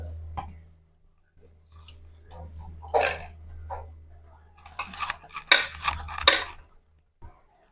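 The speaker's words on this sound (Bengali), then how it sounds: "প্রথমে আমি এরকম বড় বড় করে কয়েকটা কেটে নেব।" Nimki dough being cut into large pieces on a kitchen surface, a few sharp scraping and tapping knife strokes in an uneven rhythm over a low steady hum, close and moderately loud with quiet gaps between them.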